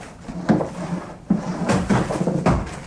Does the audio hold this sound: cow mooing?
no